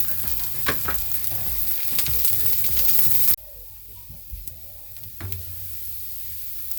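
Garlic sizzles in a hot pan while being stirred, the frying loud and steady with scraping stirs, then the sizzle drops sharply midway as more garlic goes in and continues quieter.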